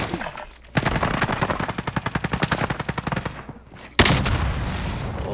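Desert Eagle pistol fire in the shooter Warzone: a rapid, evenly spaced string of loud close shots lasting a few seconds, followed by a sharp louder blast and ringing aftermath.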